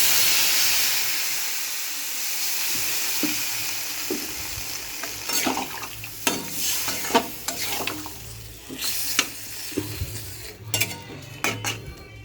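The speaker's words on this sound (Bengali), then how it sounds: "এবার একটু কষা হয়ে গেছে, এবার জল দেবো।" Potato curry sizzles and steams in a pan on the stove, a loud hiss that gradually settles, followed by scattered sharp clinks and scrapes of a spoon against the pan.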